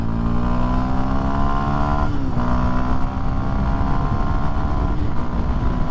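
A 2023 Kawasaki KLX230SM motorcycle accelerating hard, its engine droning loud and close as it climbs through revs with brief dips at gear shifts.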